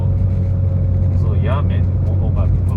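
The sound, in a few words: 1995 Porsche 993 Carrera 2 engine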